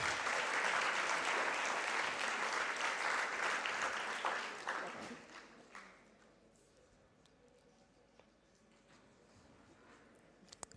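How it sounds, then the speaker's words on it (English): Audience at a youth leadership symposium gives a round of applause for a speaker, a full burst of clapping that fades out over about five seconds into near quiet with a few scattered claps. "let's give him a round of applause"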